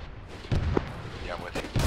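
Gunfire booms and cracks in a military video game, with a few loud heavy shots and sharper reports, some close and some distant, in rapid irregular succession.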